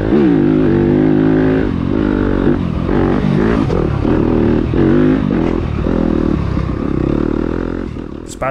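A 2021 Yamaha enduro motorcycle racing over a rough course at an ISDE East Qualifier in Plantersville, Alabama, its engine loud and close, revving and surging continuously with clattering and scraping throughout.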